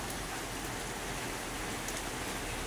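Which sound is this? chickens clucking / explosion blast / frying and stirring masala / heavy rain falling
heavy rain falling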